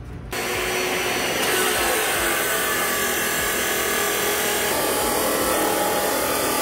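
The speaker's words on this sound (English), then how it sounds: "we got some metal to cut" Power tool cutting metal for a sled trailer build, a loud steady high whine that starts abruptly and runs continuously without pause, no talking.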